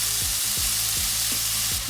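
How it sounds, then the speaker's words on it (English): Meat searing in hot oil for Japanese home-style curry, a steady loud sizzle and crackle that runs the whole time with no voices, a few soft stirring scrapes breaking through. "Searing the meat locks in the juices and gives it extra flavor."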